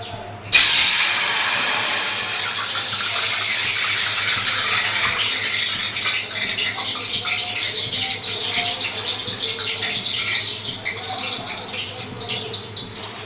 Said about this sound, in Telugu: ఇలా 3 గ్లాసులు నీళ్ళు వేసుకోవాలి.